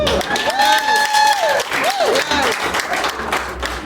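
Dense crowd applause for teachers at an education summit reception, loud continuous clapping with scattered shouts and voices over it.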